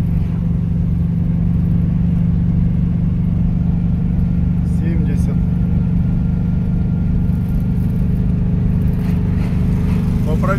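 A ZAZ-965 car engine drones steadily and loudly while overtaking on a road, a continuous low hum with rising whine, and a voice talks over it throughout.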